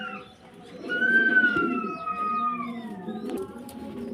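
Black Mundian pigeons giving soft, close coos, a drawn-out rolling call rising and fading over a few seconds against quiet background sound.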